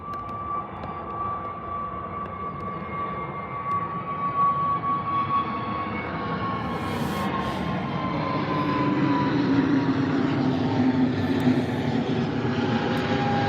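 An aircraft takes off into fog at Birmingham airport, its engine building from a distant steady roar with a sustained whine into a louder, broad rumble over about thirteen seconds.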